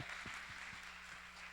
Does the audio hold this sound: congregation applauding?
yes